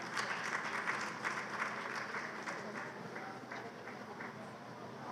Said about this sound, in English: let's give Mr. Ogirri, Kingsley, another round of applause